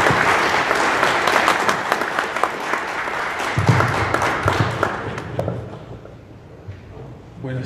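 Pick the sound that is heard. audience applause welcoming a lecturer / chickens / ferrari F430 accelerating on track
audience applause welcoming a lecturer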